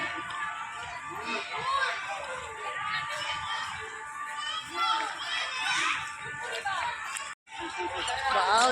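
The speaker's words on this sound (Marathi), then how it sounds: "किती ही गर्दी" Busy park in Thane where a crowd of children play games, their high overlapping shouts and chatter filling the background at moderate distance while a nearby voice talks over it.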